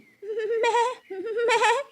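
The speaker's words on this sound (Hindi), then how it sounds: "स्वीटो बकरी अपने बच्चे के साथ जंगल में घास चर रही थी।" Two loud, wavering goat bleats in a cartoon, sounding close and alone with a short pause between the calls.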